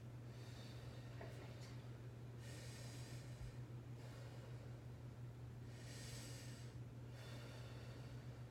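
A patient takes deep breaths during a head-to-toe medical assessment, with two long, soft, airy inhalations spaced a few seconds apart over a steady low hum of room noise.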